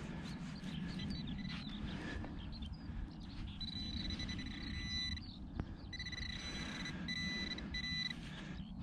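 Metal detector signal over a promising spot while digging in the UK, a series of thin electronic beeps and warbles in several bursts, moderately loud over outdoor rumble and handling noise.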